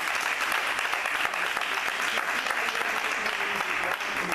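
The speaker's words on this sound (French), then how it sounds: "Merci d'applaudir encore pour nous." A studio audience applauds steadily on the Gabonese television show Le Grand Mbandja, a dense, even wash of clapping that holds throughout with no pauses.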